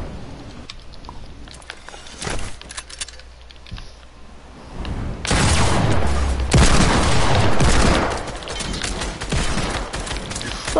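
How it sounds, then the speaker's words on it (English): Atomic bomb explosion in a video game, heard as a heavy rumbling boom and crackling blast that swells midway and stays loud for several seconds over scattered game noise. "Fucking atomic bomb."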